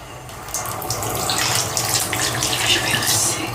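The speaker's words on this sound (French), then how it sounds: "Je vais rincer." Face rinsing with running tap water after cleansing with a konjac sponge, heard as close, continuous splashing and trickling at a sink, with irregular splashes as water is scooped up.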